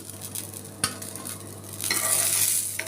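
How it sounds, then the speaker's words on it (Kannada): Garlic and green chillies frying in a pan, a close sizzle with spoon stirring and a sharp scrape or clink partway through. "ಇದನ್ನು ಇದ್ರಾಗೆ ಹುರಿತೀನಿ ರೀ."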